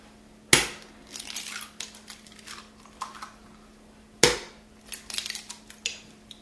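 Two eggs cracked into a bowl of mashed sweet potatoes: two sharp, close cracks a few seconds apart, each followed by light shell crunching and small clicks, with no talking.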